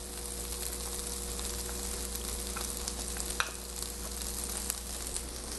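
A dish frying in a pan as honey is added, giving a steady soft sizzle with occasional faint stirring clicks over a low constant hum, fairly quiet and with no voices.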